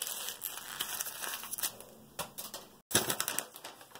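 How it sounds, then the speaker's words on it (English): A sheet of paper being crumpled by hand: crisp crackling and rustling bursts, close and fairly quiet, with a short silent gap before a final flurry of crinkles. "Yeah, you can just crumple it."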